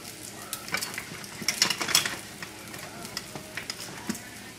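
Chicken thighs and garlic sizzling in a pan over a moderately high flame, a soft continuous fry with a burst of stirring scrapes and crackles partway through, then a quieter steady sizzle.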